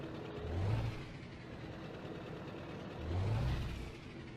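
A deep Scania 144 truck engine in Euro Truck Simulator 2 rumbles steadily, revving up twice in low surges before settling back to a throaty drone.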